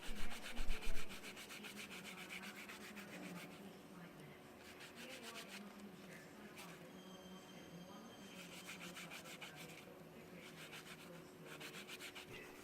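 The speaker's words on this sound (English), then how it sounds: "Still some more sanding to try and get it more rounder." Sandpaper rubs steadily against a wooden ring being rounded by hand, a continuous soft scratchy friction that swells and eases in long strokes, close and moderately quiet with no speech over it.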